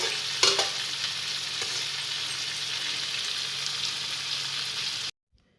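Meat stirred and frying in a pan, a steady close sizzle with scraping stir strokes near the start, running continuously for about five seconds before cutting to silence.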